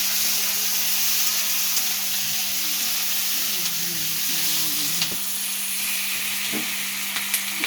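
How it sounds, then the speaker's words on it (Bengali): Chicken pieces, with capsicum, tomato and onion, frying in hot oil in a pan and being stirred, a steady close sizzle with scraping stir strokes throughout and no talk. "এই এটাকে এখন আমি তেলের উপরে ছেড়ে দেবো। এটাকে নাড়তে থাকবো।"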